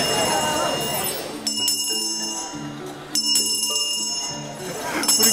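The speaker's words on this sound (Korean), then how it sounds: "12월 내내 이 구세군 종소리를 들을 수가 있어요" A Salvation Army charity handbell rings in repeated bright bursts outdoors in Myeongdong, Seoul, with people talking nearby and street noise underneath.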